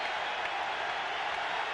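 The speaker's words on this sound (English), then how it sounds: "So that kind of ignites the crowd here as they start to pump it up" Stadium crowd at a Jaguars–Bills NFL football game in Jacksonville roaring and cheering, a steady dense wall of noise with no breaks, moderately loud and spread wide.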